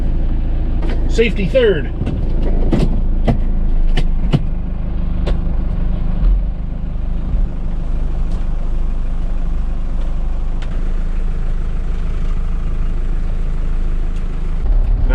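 An old truck cranks and starts, and the engine settles into a steady low rumble and idle. A few sharp clicks and clunks sit near the start, and someone speaks briefly over it.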